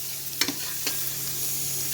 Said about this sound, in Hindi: ये मिला के मैंने इसमें पानी डाल दिया, जिससे थोड़ा सा मसाला फूल जाता है अच्छे से और फ्राई अच्छे से हो जाता है